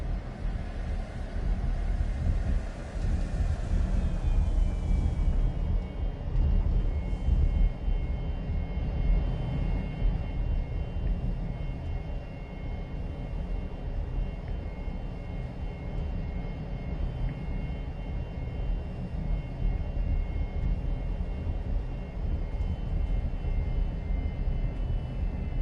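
A Mirage III jet coming in to land in a flight-sim game, a steady loud engine roar with broadband rumble and a thin whine drifting in pitch, continuous throughout with no talking.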